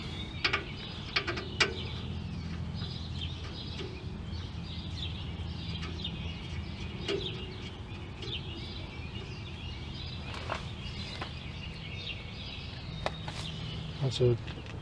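12mm bolts are screwed into a stuck brake rotor to push it off, giving faint metallic ratcheting and clicking of hand tools amid workshop noise, with someone talking at times and a few sharper clanks near the end.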